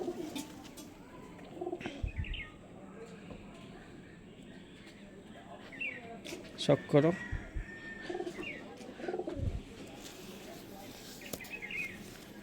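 Pigeons kept as fancy breeds coo softly now and then in a loft, under someone talking through most of the clip, with a few louder bursts of cooing near the middle.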